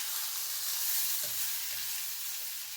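Grated coconut and masala spices frying in a pan for chicken green masala, a continuous close, even sizzle with no talking.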